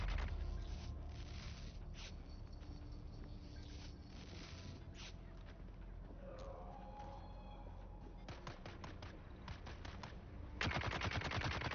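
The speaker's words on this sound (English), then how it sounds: "hear like a Gatling gun going off, but I can't see anything" Rapid Gatling gun fire in the video game Dune Awakening, heard as bursts of fast repeated shots over a steady, noisy game soundscape, with the densest, loudest volley at the end.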